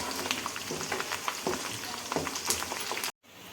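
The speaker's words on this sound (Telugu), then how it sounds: "తెల్లగడ్డలు బాగా కలర్ చేంజ్ అయ్యేంత వరకు వేపేసుకోండి." Garlic cloves frying in hot oil as a tempering for tomato pickle, a loud close crackling sizzle with scattered pops and spatters, cut off abruptly near the end before a fainter hiss resumes.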